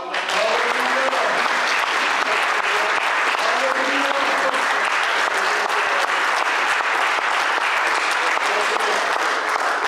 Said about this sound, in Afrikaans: Ons gee hom op 'n hande klap.